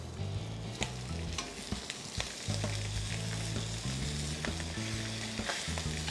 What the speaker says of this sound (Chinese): 咁我哋就摆个鱼腩位啦，就抌落去煎